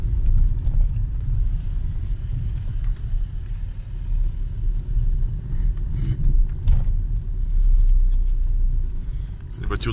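Maruti Suzuki Vitara driving along a snowy mountain road, its engine and road rumble a steady, loud low drone throughout with some wind buffeting, while people talk inside the car.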